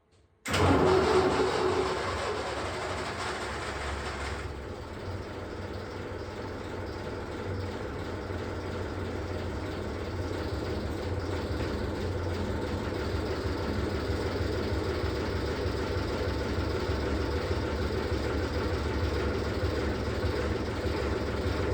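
An engine cranks and catches, then settles into a steady, continuous idle, jump-started from two batteries wired in parallel; the running drone stays loud and even throughout with no talking.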